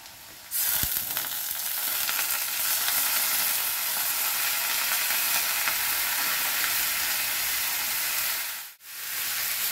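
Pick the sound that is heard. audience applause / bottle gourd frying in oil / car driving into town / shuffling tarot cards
bottle gourd frying in oil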